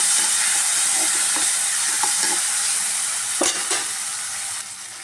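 Tomatoes sizzle in a hot pan for a curry, a steady bright frying hiss broken by a few scraping stirs of a spoon, close and alone without talk.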